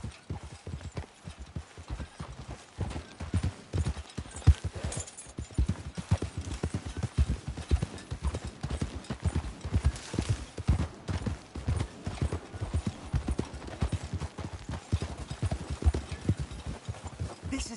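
Horses' hooves clip-clop steadily in the video game Red Dead Redemption, a continuous, even rhythm of close, crisp strikes on hard ground.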